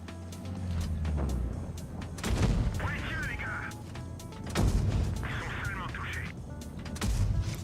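Tank cannon fire in a competitive online tank battle game, heard as several heavy booming shots spaced a couple of seconds apart over a constant engine rumble, with a player talking now and then.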